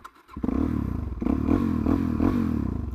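A Suzuki DRZ400SM petrol motorcycle engine starts after a brief crank, then settles into a close, steady single-cylinder idle with a rhythmic thumping pulse and light mechanical clatter.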